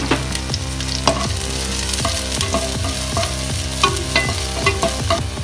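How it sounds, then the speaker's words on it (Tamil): Chopped onions, green chilies and curry leaves sautéing in hot oil for Tamil-style egg rice, a steady close sizzle with repeated scraping stirs of a spoon against the pan, no voices. "அது கூடவே கொஞ்சமாக கருவேப்பிலையும் போட்டு நல்லா வதக்கிக்கலாம்."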